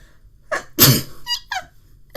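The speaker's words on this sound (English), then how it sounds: "I think I'm going to sneeze" A single sharp sneeze bursts out close by, preceded by a short intake of breath and followed by a few quieter throat sounds.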